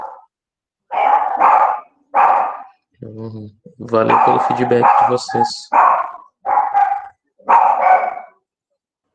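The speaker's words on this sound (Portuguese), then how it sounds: "O cachorro tá nervoso." A nervous dog barks repeatedly at close range in an even series of sharp, loud barks, some overlapping a person talking.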